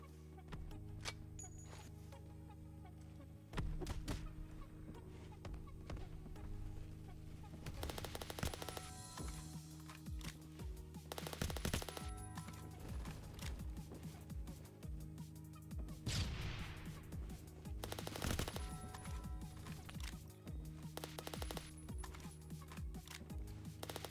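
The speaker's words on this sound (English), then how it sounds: "His bullets literally went through the wall when he hit me" Rapid automatic gunfire from the Roblox shooter Phantom Forces, with repeated bursts and single shots over about twenty-four seconds, fairly quiet overall with scattered louder volleys and brief pauses between them.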